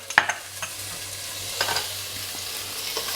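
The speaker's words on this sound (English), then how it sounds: "you're gonna be basically sweating again the vegetables in the juices with a bit of butter" Carrots and onion sweating with butter in a pan, a soft continuous sizzle with occasional light clicks and scrapes of a utensil, close and fairly quiet, no talk.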